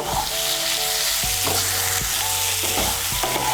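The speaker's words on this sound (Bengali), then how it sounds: "বেগুন আর সয়াবিনগুলোকে মশলার সঙ্গে ভালো করে মিশিয়ে নেব।" Eggplant and soybean chunks are stirred together with spices in a hot pan, giving a loud, continuous close sizzle with repeated clatters of the spoon against the pan.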